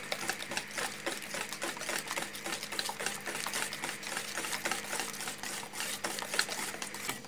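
Two chicken eggs with a pinch of salt are whisked by hand in a bowl, a steady, rapid clatter of a fork or whisk against the sides that carries on without a break. No one speaks.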